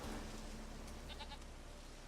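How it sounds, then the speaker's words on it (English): A goat bleats in The Witcher 3: Wild Hunt, a couple of short, faint wavering cries over a steady background hiss. "Well, we got the goat."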